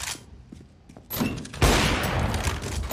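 Gunfire in the video game Counter-Strike rings out as a rapid cluster of sharp, loud shots that grows denser and louder after a quieter opening second.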